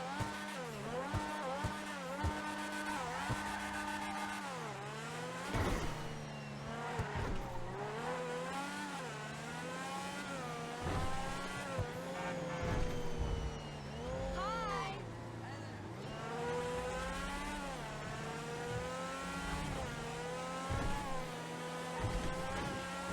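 A Lampadati Tigon sports car in GTA Online revs its engine: a high, harmonic tone repeatedly sweeps up and down, with sharp gear-shift breaks, tire squeal and a voice talking over it.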